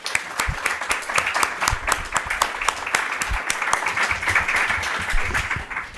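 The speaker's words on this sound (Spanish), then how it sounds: "vamos a darle un aplauso de bienvenida" Lecture hall audience applauding to welcome a speaker, dense steady clapping from many hands lasting several seconds, moderately loud and without talk.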